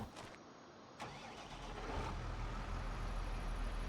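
A farm tractor's engine rumbles steadily as it pushes a wool-wrapped hay bale, a low continuous drone that swells slightly louder partway through, with no talking.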